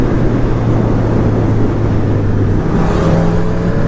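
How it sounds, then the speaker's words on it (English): A 2019 Honda CB1000R motorcycle rides past with a loud, close, sustained engine roar that swells slightly with a rising whine toward the end. "There goes Gaz on the CB."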